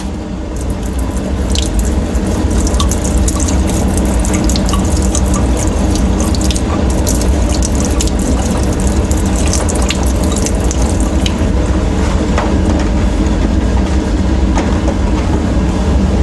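Steady rushing water runs continuously, like a tap spraying a rinse stream of distilled deionized water over a wafer, loud and close throughout with no talking.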